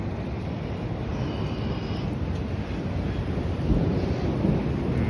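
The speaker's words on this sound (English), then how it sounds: "So yeah, the storm is pretty much right over us." Severe thunderstorm right overhead in Midtown, a continuous deep rolling thunder rumble with rain and wind noise on the microphone, swelling slightly louder toward the end.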